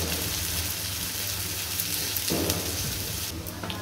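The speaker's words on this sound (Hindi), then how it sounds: "हमें अपनी प्याज को लगातार चलाते हुए अच्छे से भूनना है तेज आंच पर" Chopped onions fry in hot oil over a high flame for an egg keema masala, a steady close sizzle with faint stirring scrapes running throughout, no talking.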